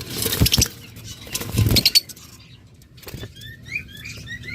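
Caged lovebirds flapping their wings in a few loud bursts, followed by thin, high chirps and tweets, close and fairly faint, with no talking.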